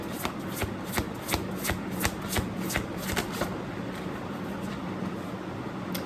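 A deck of tarot cards being shuffled by hand, a rapid series of about a dozen crisp riffling slaps in steady rhythm over the first half, then a softer continuous rustle, close up with no talk.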